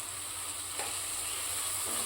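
Garam masala is stirred into tomato puree in a pan for a tuver thotha dish, giving a steady hiss of frying with soft scraping stir strokes and no voices.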